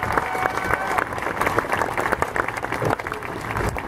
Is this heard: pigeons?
no